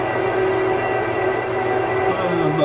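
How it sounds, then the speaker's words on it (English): Blower fans of a 2009 Apple Xserve server spinning at idle, high 5,000s to 6,000 RPM, give a steady, loud whirring drone with a constant tonal hum and no pauses. "Blowers are running"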